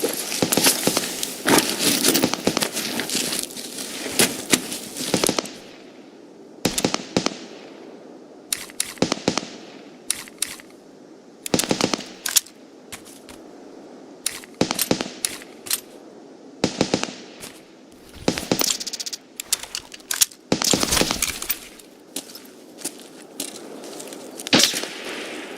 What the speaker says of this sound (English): Now we're being shot at